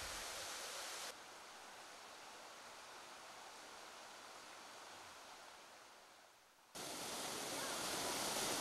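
Waterfalls large and small pour through an autumn valley of turning leaves, a steady broadband rush of falling water that drops quieter partway through and then returns loud.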